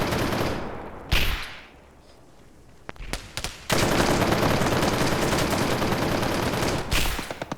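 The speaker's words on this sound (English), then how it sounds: "Taking fire!" Rapid automatic gunfire in a video game crackles in loud dense bursts, with a short lull and scattered shots before a long sustained volley.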